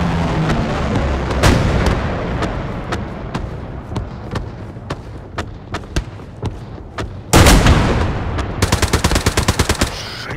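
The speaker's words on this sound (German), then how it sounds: "Das ist der Panzer, der schießt auf mich." A tank in Hell Let Loose firing its cannon toward the player, with a heavy boom amid steady rattling gunfire and sharp repeated cracks nearby.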